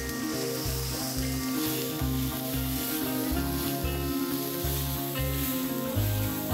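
Crushed chili and turmeric sizzle in hot oil in a pan, a steady close hiss under a regular rhythm of stirring scrapes as the spices are turned, with no voices over it.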